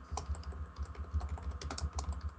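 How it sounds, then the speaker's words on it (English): Fast, loud clicking of keys on a computer keyboard, a dense irregular patter of sharp taps close to the microphone, heard alone without talking. "is typing loudly"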